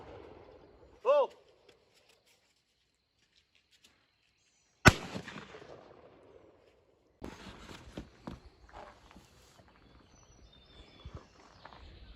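A Beretta 1301 shotgun fires at clay targets outdoors. Sharp reports crack out, a smaller one early and a louder one a few seconds later, followed by rustling and faint background voices.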